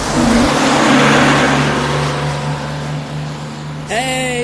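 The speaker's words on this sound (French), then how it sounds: "Ça c'est le bus qu'on va prendre du coup, qui va revenir dans quelques minutes." A bus drives past close by with a loud, steady engine roar and road noise, easing slightly before a brief high tonal squeal near the end.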